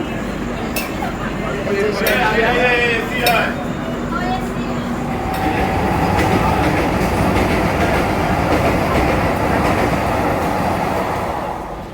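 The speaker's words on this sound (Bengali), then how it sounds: "সাঁইথিয়াতে 2 মিনিট স্টপেজ ছিল, ট্রেন এখন ছেড়ে দিল" The Saraighat Express pulls out of Sainthia station after a two-minute stop, heard from on board: clinks and a brief hiss give way to a steady, building rumble and wheel clatter, with faint voices nearby.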